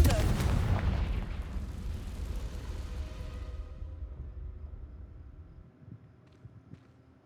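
A Confringo blasting spell cast in Hogwarts Legacy bursts in a loud close boom that rolls off into a long fading rumble and dies away to near silence.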